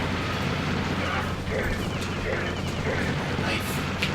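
Dense, continuous gunfire rattles in the Aliens vs Predator video game, with a thick wash of shots and blasts, while players talk over it.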